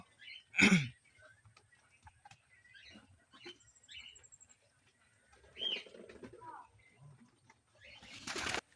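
Lotan pigeons on a pigeon farm give soft, scattered coos and rustles close by. A sharp sneeze-like burst opens the sequence amid quiet background movement.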